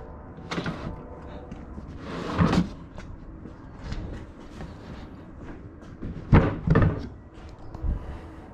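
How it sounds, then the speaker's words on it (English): A heavy-duty aluminum drawer on a car camper platform in a Subaru Outback slides out on its rails, giving several rumbling, clunking pulls and knocks in bursts, close and fairly loud, with no talking. "you want to pull out your drawers fully"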